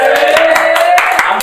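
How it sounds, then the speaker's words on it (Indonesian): Hands clapping in a quick, uneven burst through an Indonesian podcast studio, the sharp claps overlapping a lingering tonal hum and continuing steadily for the whole moment. "Tepuk tangannya mana? Tepuk tangannya."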